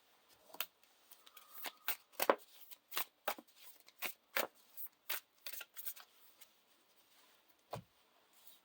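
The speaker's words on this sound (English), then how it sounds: "and shuffle our decks" Card decks for the Lord of the Rings card game being shuffled by hand, a close series of sharp riffling bursts and taps, some two dozen, with short pauses between.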